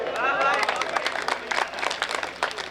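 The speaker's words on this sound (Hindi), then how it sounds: "तालियां बजाइए" A crowd at a comic Hindi poetry recital about Kejriwal breaks into scattered applause, loud at first and then thinning into uneven clusters of claps, with some voices mixed in.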